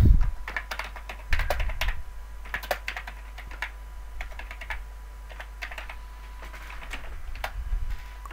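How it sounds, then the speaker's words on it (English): Someone types on a computer keyboard in a steady flurry of close, crisp key clicks, clustered in bursts with brief pauses, over a constant low electrical hum. "Actually, I'll just type in right here because it's a nightmare typing into the"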